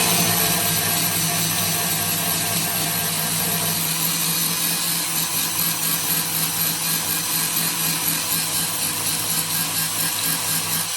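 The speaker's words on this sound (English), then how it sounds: "some flappy wheel action" Flap wheel grinding thick body filler off the rusted wheel arch of an Escort RS Cosworth small turbo, a loud, continuous abrasive whine with steady motor drone that runs the whole time without a break.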